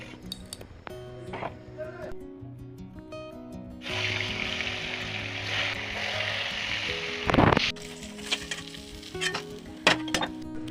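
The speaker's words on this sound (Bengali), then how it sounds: "চলো এটা দিয়ে মাছটা ভেজে তারপর ওকে যাব স্নান করাতে" Fish frying in a pan gives a steady close sizzle that swells midway, with utensil clinks, a stirring scrape and faint background voices around it.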